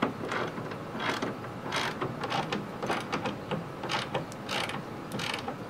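Carriage bolts being tightened with a ratchet during a vintage camper wall rebuild, giving a close run of quick clicking ratchet strokes in irregular bursts, with no talking.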